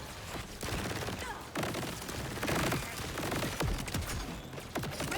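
The Maliwan Plasma Coil legendary SMG fires in Borderlands 4 as a dense, continuous rapid stream of gunfire, loud and close throughout, with a few brief breaks and impact sounds mixed in.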